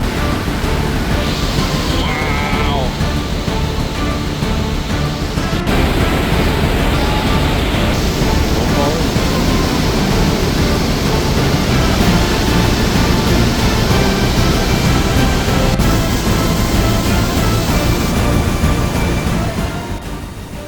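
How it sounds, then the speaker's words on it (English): Trümmelbach Falls, an underground glacial waterfall in limestone in the Swiss Alps, roars with a constant, dense, loud rush that holds steady before easing slightly at the end, heard from nearby on the approach. "we're walking up to the very first waterfall right now, and we're not even there yet, and you can hear how loud it is"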